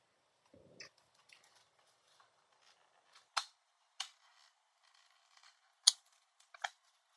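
Plastic parts of a Toshiba NB505 laptop being pried apart: a handful of sharp, isolated snaps and clicks at irregular intervals, close and fairly quiet against near silence.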